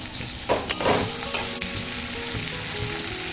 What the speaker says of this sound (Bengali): খুব একটা কালচে করে ভাজা হবে না, কিন্তু মোটামুটি একটু লালচে করে ভাজা হবে